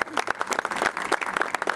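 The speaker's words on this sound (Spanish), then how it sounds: "Aplausos, por favor." Audience applause at a ceremony unveiling a bust honoring an association's founder, a dense burst of many hands clapping close and steady through the moment.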